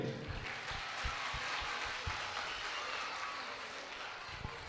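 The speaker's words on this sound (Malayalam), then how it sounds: "റിയ സാറിന് എല്ലാവരും ഒരു കൈയടി" An audience at a school annual day and kindergarten graduation ceremony claps faintly and at a distance, a soft continuous patter broken by a few dull thumps.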